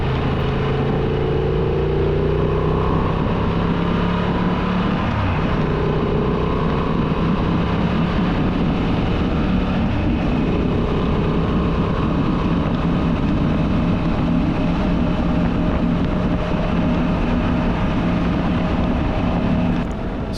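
A 2023 Honda Transalp 750 (XL750) motorcycle cruises at speed on a dual carriageway, its engine giving a steady hammering drone with low harmonics under heavy wind rush, continuous and loud for the whole stretch.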